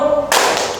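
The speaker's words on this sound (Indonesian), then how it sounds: "Lagi, tepuk nyamuk ke atas sendiri." Group of participants clapping hands in an Indonesian classroom-style mosquito-swatting clap game, a sudden burst of many overlapping claps starting partway through and continuing near and loud after a tonal background hum.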